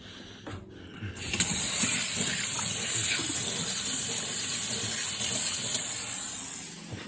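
Tap water runs steadily into a sink for hand washing, a close, constant hiss and splash that starts after a second of quieter sound and continues alone without talking.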